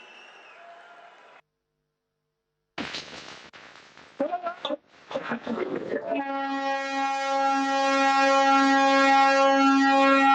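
At a Srinagar station in Kashmir, the first electric train departs during an inauguration ceremony. A voice and crowd noise give way to a long, steady, loud horn that holds to the end.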